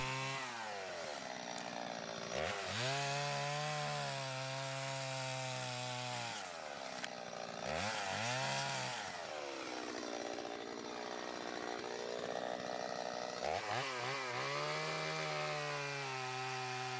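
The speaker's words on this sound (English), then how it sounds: "then I can create the detail in the chainsaw carving with this" A chainsaw carves a wooden sculpture, the engine droning loudly and continuously, with its pitch dropping and rising as the blade bites into the wood and revs back up, no voices over it.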